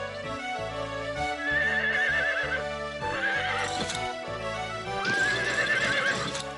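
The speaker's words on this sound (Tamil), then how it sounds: "உங்களால என் குதிரை ஸ்டாலினுக்கு லாடம் கட்டுறது அவ்வளவு சுலபமான விஷயம் இல்லைன்னு நான் நினைக்கிறேன்." A horse whinnies loudly several times in a row while hooves clip-clop steadily underneath, with no one talking.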